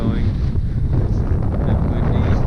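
Strong wind on a mountain at sunrise buffets the microphone in a steady, roaring rush that continues unbroken throughout, with no talking.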